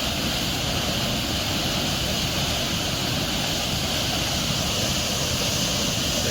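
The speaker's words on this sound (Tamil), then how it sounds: "இங்கே பாருங்கள் தண்ணி எப்படி போகுதுன்னு." Steady broadband rush of flowing water at a tourist spot in Kanyakumari, loud and continuous with no pauses, no voices and no other sounds rising above it.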